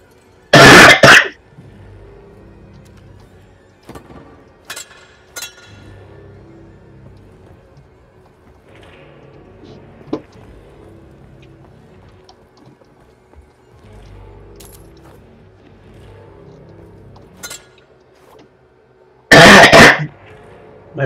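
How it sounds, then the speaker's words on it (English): A person coughs and clears their throat in a game scene, with one harsh burst at the start and another near the end, and quiet, sparse background noise in between. "I had to cough."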